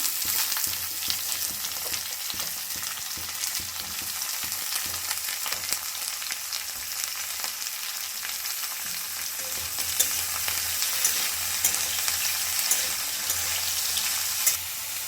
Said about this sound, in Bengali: এটাকে খুব ভালোভাবে আমি একটু মিশিয়ে নেব সবজিগুলো।